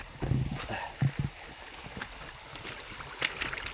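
River water flowing outdoors in the wild, a steady broadband rush running through the whole stretch, with a few soft knocks and footsteps over it.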